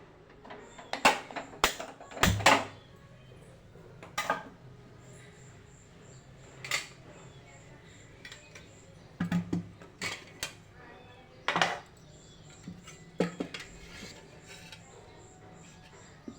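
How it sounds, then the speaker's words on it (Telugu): A cooking pot set on a stove while preparing a tomato curry, with scattered metallic clinks and knocks of pots and utensils coming in short irregular bursts, fairly close, between quiet gaps. "ఇప్పుడు స్టవ్ పై ఒక గిన్నె పెట్టేసుకొని"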